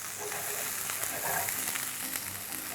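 Soft, steady sizzling of chopped garlic and onion frying in a hot pan, faint and continuous with light crackles and no talking.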